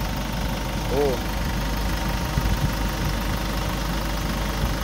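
A Kia K2500 engine, recently repaired of a misfire, idles smoothly and steadily at close range with an even low rumble, while a voice speaks briefly over it.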